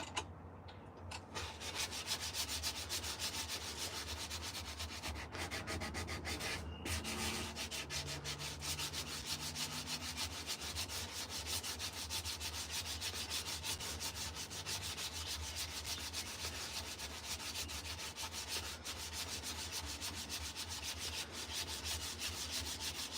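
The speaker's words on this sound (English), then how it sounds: "you keep on sanding and shaping and everything else" Steady sanding and rubbing on wood in a home workshop, a continuous abrasive scratching that runs unbroken for the whole stretch at fairly even loudness, close by, with no talking.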